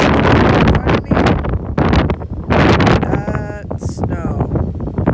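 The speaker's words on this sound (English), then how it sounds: "It's always windy here." Loud gusty wind buffets the microphone in heavy bursts during snowfall, with a voice speaking briefly underneath.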